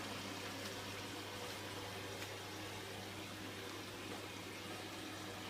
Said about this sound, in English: we're now filling up again with water